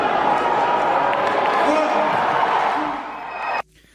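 A large Saudi arena crowd at a boxing match murmurs and roars as a broad, dense wash of noise, cutting off abruptly near the end.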